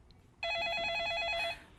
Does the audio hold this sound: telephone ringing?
yes